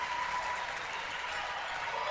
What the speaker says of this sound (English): A lot of applauding on both sides from the effort on the floor.